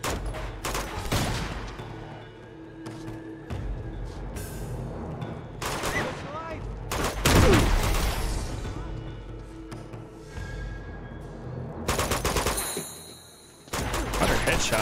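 Gunfire in the video game Uncharted 2 as soldiers are shot: bursts of sharp rifle shots and rattling volleys, some loud and close, scattered irregularly across the stretch with impact crashes in between.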